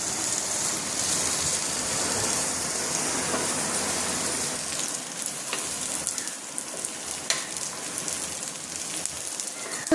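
Medium-size sliced onions frying in hot oil in a home kitchen, a continuous bright sizzle that is loud at first, then eases into softer crackling with occasional pops and stirring sounds.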